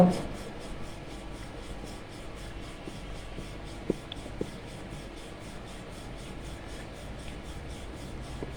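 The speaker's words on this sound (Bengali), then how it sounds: "প্রথমে বড় সাইজের একটি রুটি বানিয়ে নেব" A rolling pin works dough into a large flatbread for bhel puri, making a faint, steady rubbing and scraping in a regular back-and-forth rhythm close by.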